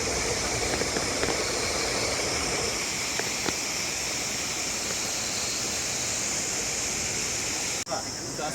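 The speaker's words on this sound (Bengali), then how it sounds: "পাথরের ফাঁকে ফাঁকে পানি যাচ্ছে, অনেক সুন্দর ভিউ।" Water from the Sundarijal waterfall in Nepal pours steadily between rocks, a dense, continuous rushing that stays loud and even throughout, with a brief dip near the end.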